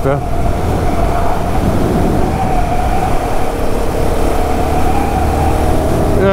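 A Royal Enfield Guerrilla 450 motorcycle engine drones loudly and steadily at high revs, full throttle, with a constant engine hum and rushing noise from start to finish.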